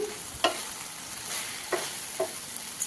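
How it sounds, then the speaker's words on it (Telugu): Okra pieces frying in a pan with salt, chili powder, turmeric, coriander and cumin powder, a soft steady sizzle broken by a few scraping strokes of a spoon, close and quiet. "మసాలా అంతా ముక్కలకి పట్టేలాగా బాగా కలుపుకోవాలి ఈ విధంగా వేయించడం వల్ల ఫిఫ్టీ పర్సెంట్ కూరగాయ ముక్కలు ఉడికిపోతాయండి"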